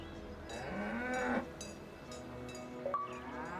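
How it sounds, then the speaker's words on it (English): A cow in the game Dungeons of Hinterberg gives one long, rising moo after being fed, loud and close, followed by fainter game sounds and a short tonal chime. "You fed the cow."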